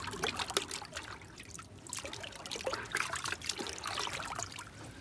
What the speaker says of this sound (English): So you can see the water that's coming from the meat.